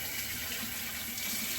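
Hot water running steadily from a bathroom tap during a wet shave with a titanium safety razor, a continuous close splashing hiss at moderate level with no talking.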